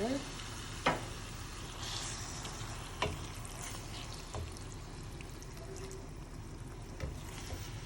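Nigerian chicken stew being stirred in a pot, with a steady sizzle and bubbling, a few sharp clanks of the spoon against the pot, and faint pouring and trickling.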